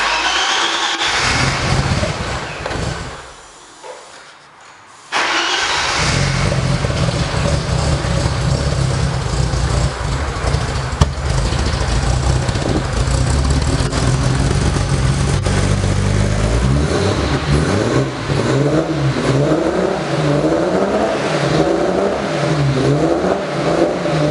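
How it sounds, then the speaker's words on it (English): A BMW E30 converted from a 320 into a 325iS replica cranks over and catches, then idles and revs repeatedly with rising and falling engine pitch, loud and close with no talking. "So this is how a former 320 now / a 325 IS replica sounds."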